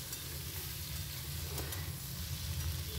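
Puti fish coated in salt, chili and turmeric sizzling in a hot pan of oil, a steady dense hiss close up with no talk over it.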